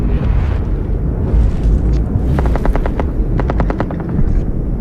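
Rapid automatic gunfire in a Rainbow Six Siege video game trailer, two bursts of quick rattling shots ringing out over a loud, dense rumble of engine-like noise and explosions.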